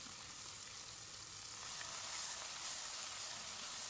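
Ground spice paste for sambal sizzles and fries in hot oil, a continuous bright hiss that swells slightly partway through, with no voices.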